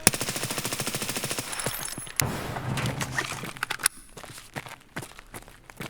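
Gunfire in Escape from Tarkov during a Labs raid: a rapid automatic burst with steady, evenly spaced shots, then scattered single shots and footsteps, close and loud.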